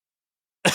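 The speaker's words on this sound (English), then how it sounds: "I developed a cough at the wrong time" A single short cough, sharp and close, bursting out at the very end after near silence.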